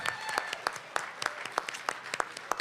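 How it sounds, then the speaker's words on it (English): A crowd at an outdoor park party claps together, the sharp hand claps falling in a quick, fairly even rhythm; moderately loud and close, with no talk over it. "Give yourselves a big round of applause."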